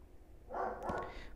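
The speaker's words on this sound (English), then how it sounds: "And that is my dog barking." A 110-pound German Shepherd gives a single deep, heavy bark, muffled as if from another room, against a quiet background with no talk.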